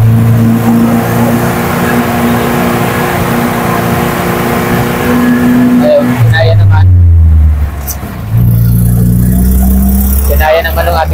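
A vehicle straining up a rough, remote forest mountain road in Tabango, Leyte: a loud sustained engine drone that rises in pitch as it revs harder near the end, with someone talking over it.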